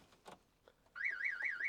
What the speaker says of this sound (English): Right, the alarm's going off